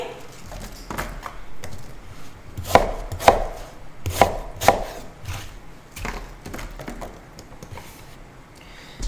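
A knife chops vegetables roughly on a cutting board, a handful of sharp, close knocks in uneven bursts, with softer taps and kitchen handling noises between them.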